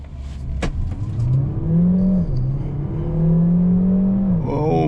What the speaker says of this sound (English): let's put it into the sport mode and see how quick is the acceleration